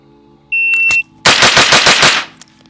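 Rapid string of six pistol shots with SuperVel ammunition, loud and close, following a steady electronic shot-timer beep, with a faint trailing click afterward.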